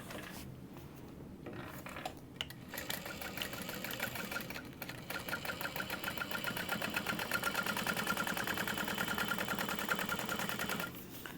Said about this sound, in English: top stitch through the top panel